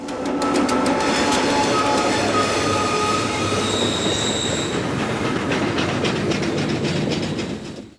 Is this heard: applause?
no